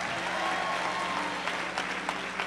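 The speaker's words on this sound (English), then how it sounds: "Come on, clap for him." Audience at a sermon event clapping for a small child, a steady wash of applause that thins into a few scattered louder claps toward the end.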